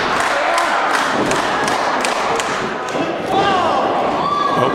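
In an independent professional wrestling match, a knee is driven into an opponent's shoulder, giving dull repeated thuds against a constant roar of crowd noise, with a voice talking over it.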